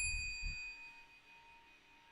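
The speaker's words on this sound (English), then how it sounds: "where's that bell?" A bell on a radio sports show rings out in a single bright, sustained ding that slowly decays, with a couple of low thumps at the start and a small clink near the end.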